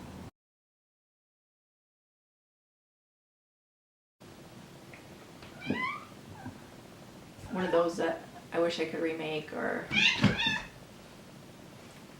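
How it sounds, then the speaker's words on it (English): A pet cat meows several times close by, drawn-out cries following a silent gap, mixed in with a person talking. "yes, that's my cat."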